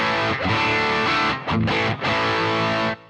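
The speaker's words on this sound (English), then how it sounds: "I'm going to switch in a Thorpe Peacekeeper, which I've got the drive fairly high" An electric guitar through a Thorpe Peacekeeper overdrive pedal set to high drive, played loud and close as thick, saturated sustained chords with a couple of brief breaks before ringing out and cutting off.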